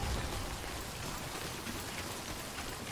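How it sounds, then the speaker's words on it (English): Steady video game rain, from Death Stranding, pours down continuously, a dense hiss of drops spread across the whole moment with no voices. "This rain just won't let up."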